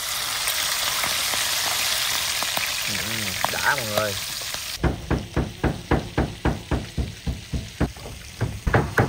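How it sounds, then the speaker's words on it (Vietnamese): Shrimp heads fry in hot oil with a loud, steady sizzle, which then gives way to a regular series of sharp knocks as they are stirred in the pan, with a brief spoken phrase. "Cái phần đầu tôm mấy anh em mình sẽ đem chiên nha mọi người."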